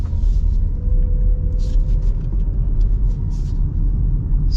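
A 2026 Mazda CX-50 Hybrid pulls away with a steady low rumble of road and engine noise from inside the cabin, continuous and even throughout, with faint higher hiss bursts and no talk.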